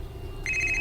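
A mobile phone starts ringing partway through, its bright electronic ringtone trilling in a steady repeated pattern over a low background hum.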